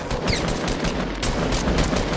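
Dense, continuous rapid gunfire in the video game Fortnite, loud and close, a steady barrage of overlapping shots with no pauses.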